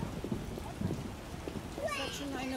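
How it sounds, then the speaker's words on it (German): Steady rain falls in The Witcher: Enhanced Edition, a soft constant hiss under voices that speak throughout. "Nicht mehr stark geregnet."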